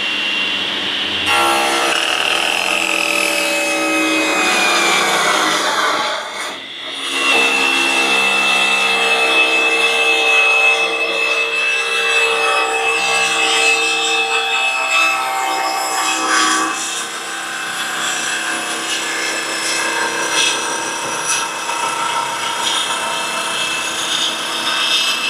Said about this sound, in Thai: สมมุติผมจะเปิดปีกโดยใช้เจ้าเลื่อยตัวนี้ก่อน